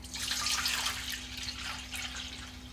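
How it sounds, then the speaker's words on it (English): Water splashes and trickles in a sink as naturally dyed cloth is rinsed by hand, with irregular sloshing bursts over a steady low hum. "So we'll wash this one first. Give it the first rinse."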